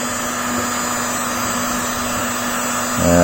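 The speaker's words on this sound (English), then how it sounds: "So just a blower on a low heat, just chucked in the top and let it do its thing" A hot air blower on low heat pushes warm air into the top of a flash-rusted motorcycle fuel tank, giving a steady, continuous whirring roar with a constant hum that swells slightly louder at the very end.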